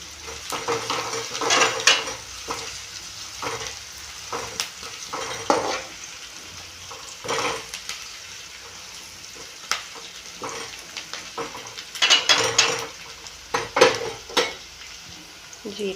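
Onions frying in a pan for village-style upma, a steady sizzle under repeated scraping and clinking strokes of a spoon stirring against the pan, close and moderately loud, with no talk.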